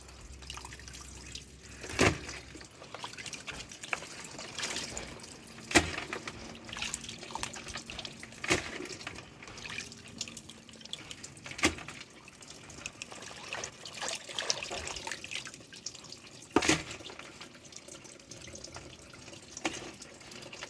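Food being washed under running water at a sink, a steady close trickle broken by drips, splashes and occasional sharp knocks, no talking.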